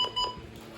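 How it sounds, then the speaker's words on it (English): A Midland WR300 weather radio emits two short electronic button beeps in quick succession. The beeps are close but quiet, and a faint low hum follows them. "It has different button beeps"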